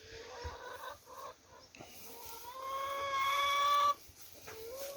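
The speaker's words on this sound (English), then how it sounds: "And chickens saying hello." Chickens on a small Spanish homestead terrace garden cluck and call in a few uneven bursts at moderate distance, with one longer drawn-out call near the end, heard over quiet outdoor background.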